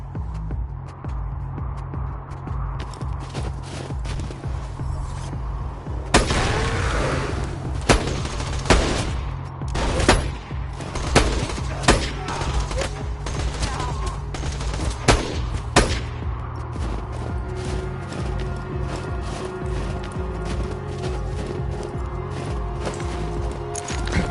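Grenade explosions and rapid gunfire from the video game Borderlands 2, with dense bursts of shots and booming blasts layered over a steady low hum, continuous and loud throughout.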